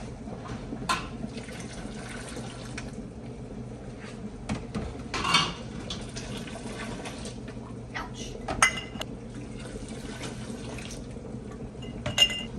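Glass canning jars clink and knock against a pot and one another as they are lifted out and handled for strawberry fig jam, giving sharp, scattered chinks over quiet kitchen background.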